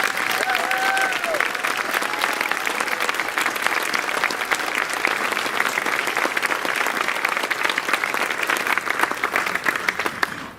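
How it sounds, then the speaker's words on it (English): An audience at a school graduation ceremony gives teachers a long, even round of applause, a sustained wash of many hands clapping at moderate loudness with no break. "please stand and let us give you a round of applause."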